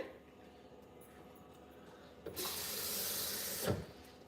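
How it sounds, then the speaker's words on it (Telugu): Water pours into a mixer jar for grinding pongal ingredients, a broad steady rush starting midway and running about a second and a half, ending with a brief louder splash, alone with no talk. "కొంచెం వాటర్ యాడ్ చేస్తానండి దీంట్లోకి"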